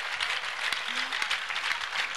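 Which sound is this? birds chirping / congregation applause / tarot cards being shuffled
congregation applause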